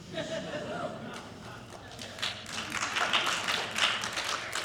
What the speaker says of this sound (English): I don't know if you're clapping for my good luck or for the insurance industry